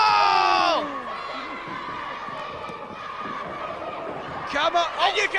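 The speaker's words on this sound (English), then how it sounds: "You can hear the crowd." Crowd noise from a UK wrestling event, a mass of cheering voices rising and falling, with a louder burst of shouting near the end over a steady arena roar.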